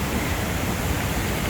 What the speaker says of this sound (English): The ramp that is usually dry or gets just a little bit of water, it's raging.